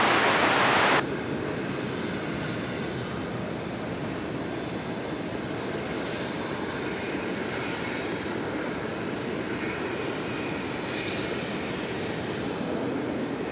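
Airliner arriving at Dallas Fort Worth after a short hop from Raleigh, a steady, fairly distant engine rumble and hiss that holds evenly throughout with no voices.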